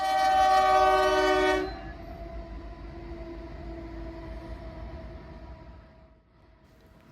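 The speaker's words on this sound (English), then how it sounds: "right there is a grain train heading west being led by the" A westbound NYC grain freight train led by locomotive NYC 1066 sounds a loud multi-tone horn blast, then a steady rumble of rolling cars fades gradually, no talk.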